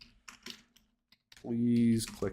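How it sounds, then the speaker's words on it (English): Light typing on a computer keyboard gives a few faint, scattered clicks in near silence, then a voice briefly speaks over them. "having some issues typing here"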